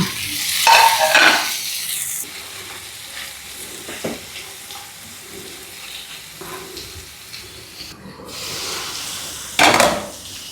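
Onion and tomato sauté in a hot pan, a steady sizzle and fry with occasional stirring scrapes and bursts of louder hissing as ingredients move, no talking.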